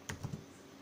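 A few quick keystrokes on a computer keyboard, three soft close clicks in quick succession followed by quiet.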